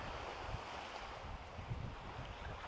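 Sea waves at the seashore, a faint continuous wash of surf mixed with soft wind noise, steady and distant with gentle swells and no voices.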